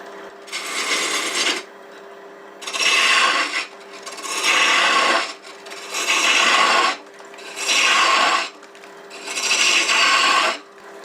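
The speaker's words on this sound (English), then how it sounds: "So I'm just going to use a spindle roughing gouge and start wasting away wood here." A spindle roughing gouge rasps against spinning scrap wood on a lathe in six steady passes, each about a second long, separated by short pauses where only the motor hums.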